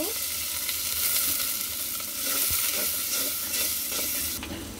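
Steady sizzling from a hot pan as water is added to frying ground spices, with occasional stirring scrapes, a continuous frying hiss that holds throughout at moderate loudness.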